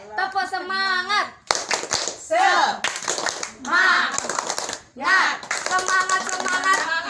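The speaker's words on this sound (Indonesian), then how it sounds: "buat Bu Nana sekarang kita kasih tepuk semangat" A group at a community meeting does the tepuk semangat clapping chant, with rhythmic sharp claps mixed with loud shouted chanting voices, close and lively.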